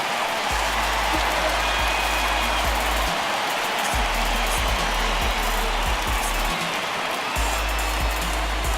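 Home crowd in MLB The Show 19 roaring and cheering at a Blue Jays at Red Sox game at Fenway, a steady, loud wall of applause and crowd noise throughout with no speech.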